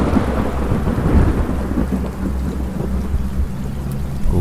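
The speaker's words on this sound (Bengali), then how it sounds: "বৃষ্টির বেগটা আরো বেড়ে উঠল" Heavy rain pours in a steady dense roar, with thunder rumbling low beneath it throughout, continuous and loud with no voices.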